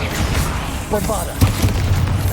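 A Bombarda blast spell in Hogwarts Legacy lands as a single deep boom midway through, with a brief voice and game ambience around it.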